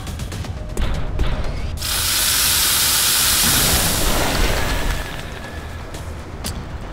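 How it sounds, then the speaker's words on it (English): Heavy minigun barrage shredding enemy cover in XCOM Enemy Within, a dense, loud roar of continuous fire and crumbling debris that swells for several seconds, then eases into rumbling settling noise. "He has an ability called collateral damage, and this lets him destroy cover at a very high ammo cost."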